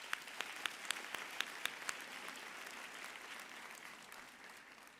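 An audience applauds at a university graduation ceremony conferring an honorary doctorate. A few sharp individual claps open the burst, then a sustained wash of crowd clapping follows, heard at a distance and fairly faint.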